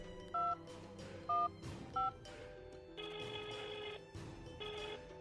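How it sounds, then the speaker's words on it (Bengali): A telephone is dialed, with three short keypad tones followed by longer ringing bursts, heard up close and alone. "দেখি ওর মামাকে একটা ফোন দিই।"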